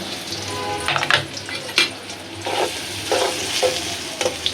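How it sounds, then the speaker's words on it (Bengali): Chopped onions frying in hot oil in a pan, a steady close sizzle and crackle with occasional stirring scrapes, and no talking. "আমার তেলটা গরম হয়ে গেছে পেঁয়াজ দিয়ে দিলাম"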